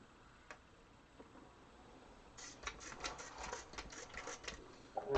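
A sewing machine stitches quilt blocks in a quiet room, its needle chattering in a fast, even run that starts partway through and continues to the end, faint and close by with no talking.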